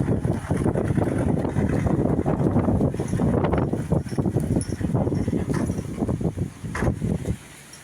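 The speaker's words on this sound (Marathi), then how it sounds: "बघ कसलं वारं सुटलंय" Strong pre-monsoon wind buffets steadily outdoors ahead of rain, a loud continuous gusty roar across the microphone that eases slightly near the end, with no speech.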